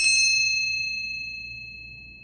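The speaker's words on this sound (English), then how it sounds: "we want to clear out all the stale, old energy with the ringing of this bell" A single bright strike of a small bell rung to clear stale energy, its clear ringing tone decaying slowly and alone in a quiet room.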